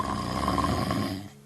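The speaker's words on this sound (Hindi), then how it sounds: "आती खर्राटों की तेज आवाजें सुनी।" A big bear snoring in a cave in an animated children's story gives one loud, deep, rasping snore that fades out at the end.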